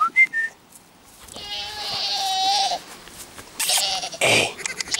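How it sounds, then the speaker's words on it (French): A dwarf goat bleats beside a borzoi puppy: several wavering, nasal bleats close by, a long drawn-out one in the middle, with brief squeaks and a few soft rustles between them. "t'as vu qu'à côté, il y a ta copine, la chèvre. Jewel."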